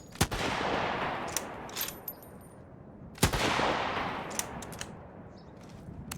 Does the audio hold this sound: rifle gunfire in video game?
yes